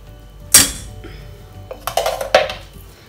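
A spoon clatters against a metal pot while coconut and green gram are stirred together for kichadi, one sharp clang and then a run of quicker scraping knocks.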